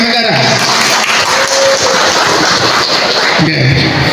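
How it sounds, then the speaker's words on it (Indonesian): A crowd applauds for PAN Banjarnegara at a party branch congress held in a hall, loud clapping filling the room, with a voice over a sound system at the start and end. "Tepuk tangan untuk PAN Banjarnegara."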